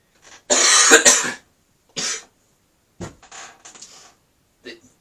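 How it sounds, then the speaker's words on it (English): Someone with COVID coughs several times nearby: a harsh burst, then shorter separate coughs and a throat clear, with quiet pauses between. "This coughing ain't staged, by the way."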